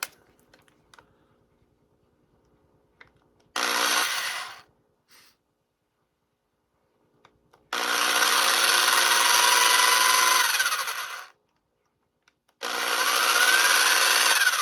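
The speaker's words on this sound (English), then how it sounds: "God, I hope you guys like the sound of drills" A power drill runs on an anime figure in three bursts, a short one then two longer whirring runs, each loud and close, with quiet pauses and faint clicks of handling between them.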